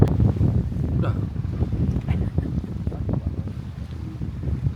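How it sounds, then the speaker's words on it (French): Wind gusts roar across a microphone on a boat at sea off Greece, a steady low rumbling buffet with faint voices mixed underneath. "il y a un peu de vent quand même"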